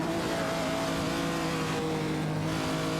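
Engines of race cars in a racing video game, including a Ford Falcon XB GT and a Lamborghini Jarama S, drone steadily at high revs, a continuous loud mechanical tone with no voices.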